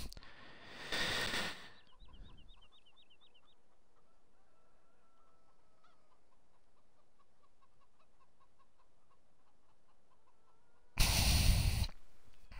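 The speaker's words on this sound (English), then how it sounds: "Oh, there's chickens." Chickens cluck softly in the background in the farming video game Sunshine Valley Farms, with two loud bursts of noise at the start and end.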